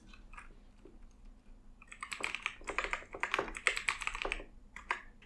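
Fingers tap on a computer keyboard while entering a password and captcha, a quick irregular run of close, crisp key clicks that starts sparse and then becomes dense, with no talking over it.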